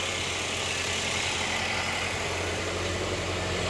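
A 2013-2017 Ford Fusion with the 1.5L engine idles steadily at close range, a smooth, constant hum with no talk over it, holding the same level throughout.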